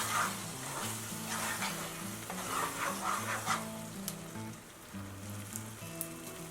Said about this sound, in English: So I just sauteed this for about 5 minutes until the peppers and the onion are succulent.